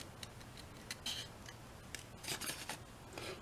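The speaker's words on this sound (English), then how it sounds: "the scissors should open and close most of the time" Scissors snipping through paper while the sheet is turned, a run of short crisp cuts and rustles, irregular in rhythm, close and quiet.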